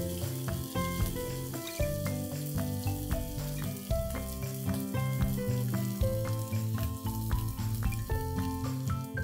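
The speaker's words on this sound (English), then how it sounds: "fry the remaining pieces" Idli pieces frying in hot oil crackle and sizzle steadily, partly masked by tuneful background music that plays throughout.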